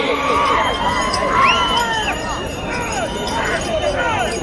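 Crowd at a bull race in a village shouting and cheering, loud excited voices rising and falling in overlapping calls, with a brief whistle-like shout at times.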